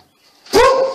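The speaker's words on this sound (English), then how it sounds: "I'm sorry about my dogs, y'all." A single sharp dog bark, loud and close, after a brief quiet moment.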